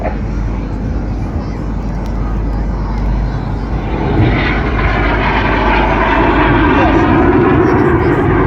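Red Arrows display jets roar over the Blackpool seafront air show, a loud, broad rushing engine noise that swells stronger partway through, with a commentator talking over it.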